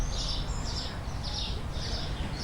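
Small birds chirping outdoors in a busy public spot, repeated high bright call bursts roughly every half second over steady low rumble of ambient noise and distant people.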